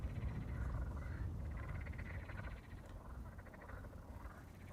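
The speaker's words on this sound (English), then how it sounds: "Kermit the Frog once again." A frog croaks repeatedly outdoors near an airport, a low rolling rasping chorus that stays fairly faint and steady throughout with no speech.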